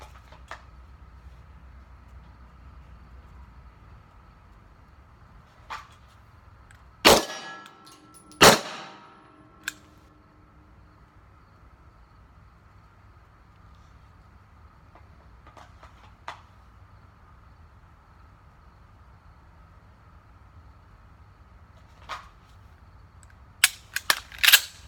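Sharp pistol reports from a Sig P250 during ball and dummy drills, with clanging hits on steel targets; a few loud, widely spaced shots and metallic clanks come among quieter ticks and distant pops across a long, mostly quiet stretch.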